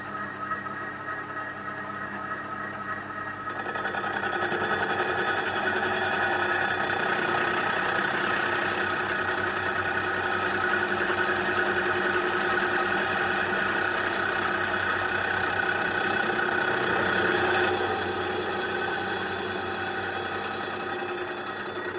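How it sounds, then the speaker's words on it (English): A milling machine climb mills a hydraulic breaker bracket from a 3-ton excavator, producing a continuous grinding, whirring cut that grows louder and denser for most of the pass before easing off. "Some of you will notice that I am climb milling."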